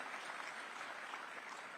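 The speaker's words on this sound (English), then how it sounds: "So we can have a round of applause for that." Crowd applause in a hall at a news summit in India, a dense, even wash of clapping held at low level throughout with no individual claps standing out and no speech.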